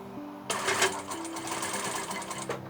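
A sewing machine stitches a box-and-X pattern across a tote bag corner with a steady, close, rapid needle hum that starts after a short pause and runs on without speech.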